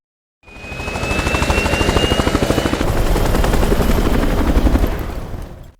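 A helicopter in a zombie film thumps with rapid, steady rotor chop, loud and close, holding constant for several seconds before cutting off, with no voices over it.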